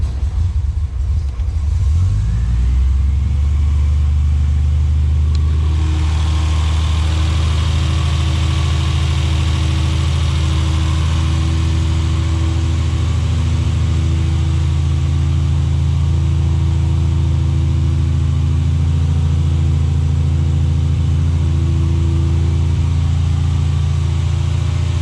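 A 1972 Triumph TR6 engine is started with a starter button, cranking briefly before catching and settling into a loud, steady, deep idle that rumbles on close by.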